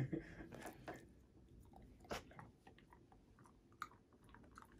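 An American Staffordshire terrier puppy chews and crunches a dog advent calendar treat, soft irregular biting and crunching clicks close by, faint overall.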